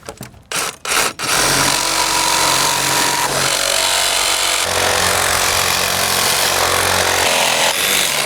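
A reciprocating saw cuts through wood framing lumber in a loud, continuous buzzing rasp that runs nearly unbroken for several seconds after a few short opening bursts, close by.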